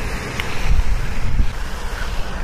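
Gusting wind at an outdoor pond during fly fishing with a micro fly rod, a steady broadband rush with low rumbling buffets against the microphone, continuous and fairly loud with no talking.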